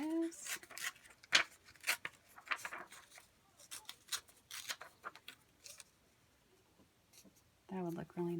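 Paper being torn by hand for a pocket craft, a run of short dry rips and crinkles up close. A voice speaks briefly at the start and again at the end.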